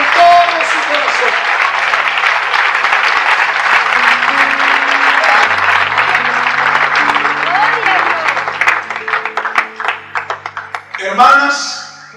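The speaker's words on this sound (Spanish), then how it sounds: "Denle un aplauso al Señor con todo su corazón" A church congregation gives loud, sustained applause throughout a sermon. Sustained organ or keyboard chords sound under the clapping, which thins into scattered claps toward the end as a voice rises briefly over it.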